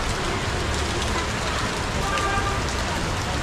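Heavy rain falls in Normandy, a dense, even hiss of water on surfaces that holds steady throughout with no voices.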